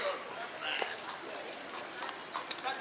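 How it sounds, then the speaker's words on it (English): Horse hooves clop on a New Orleans street at night in an irregular rhythm, a little distant, with voices and street noise mixed in. "People be on horses right now."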